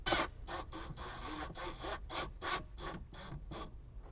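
Number 10 self-tapping screws are driven to mount a voltage reducer on a Club Car Tempo golf cart, giving a series of about eight rhythmic ratcheting, grinding mechanical bursts with brief gaps between them, close and clear with no talk.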